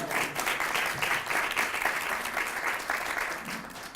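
An audience at a Baltimore authors' health and wellness event applauds author Kelly Campbell, producing a steady, moderately loud sheet of clapping that holds without a break for several seconds.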